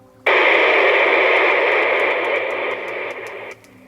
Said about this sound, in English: that's what the channel sounds like with no squelch on